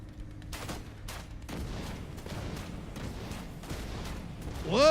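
Enemy gunfire in The Division 2 rattles out as rapid, repeated shots in quick bursts over a steady, rumbling combat background, loud and close, ending in a rising synthetic whine.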